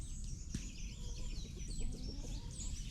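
Chickens, including a rooster, clucking and calling in a busy flock, with overlapping squawks and chirps over a steady low background rumble.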